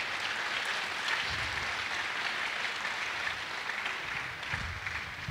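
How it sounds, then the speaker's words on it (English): Audience applause at a university technology week event, a dense continuous wash of clapping from a large crowd at moderate distance, steady throughout without voices standing out. "Please give them a round of applause"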